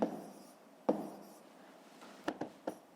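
Numbers written by hand on paper, with faint scratchy pen strokes in short separate bursts and a few quick taps, quiet and close.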